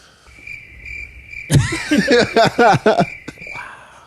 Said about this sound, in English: some crickets on that?